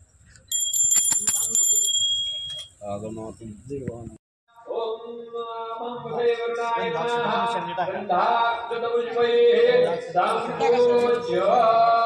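A ringing bell at a puja in a Hanuman temple, bright repeated strokes at the start, then chanting or singing voices carry on at length with overlapping tones.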